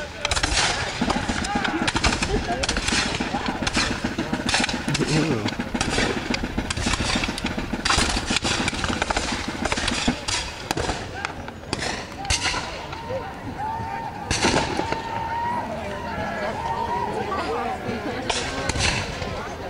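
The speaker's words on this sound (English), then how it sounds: "so that their men can fire their muskets in unison or volley fire at the fort's defenders" Musket volley fire at a French and Indian War reenactment at Fort Niagara, heard as repeated loud bursts of gunfire, some of them rolling together, over constant crowd noise and nearby talking for the whole stretch.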